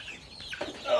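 A chicken lets out a short cluck or squawk near a new chicken hutch at night, brief and fairly faint over quiet background noise.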